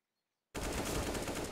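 Sudden loud, rapid automatic rifle fire in the game Counter-Strike: Global Offensive during a round on the Inferno map, bursting in abruptly after silence and continuing as dense, sustained shots.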